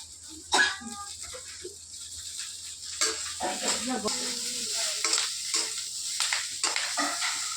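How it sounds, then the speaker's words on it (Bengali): Cauliflower fries lightly in a pan, a steady close sizzle broken by scraping stirs and clatter. A voice can be faintly heard at times. "তো আমি ফুলকপিটাকে বেশি ভাজবো না, তো আমি এখানে এটাকে হালকা ভেজে নিলাম"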